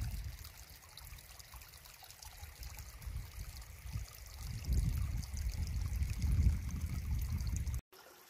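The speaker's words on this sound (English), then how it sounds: "The first of the little streams in Lower Berkeley Park." A small mountain stream trickles in Lower Berkeley Park on Mount Rainier, a soft steady gurgle of water that grows a little louder and fuller toward the end, heard alone without voices.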